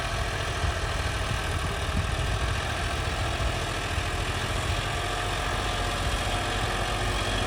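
A John Deere 5210 tractor fitted with radial tyres runs in first gear, its diesel engine holding a steady, even rumble close by with no talk over it.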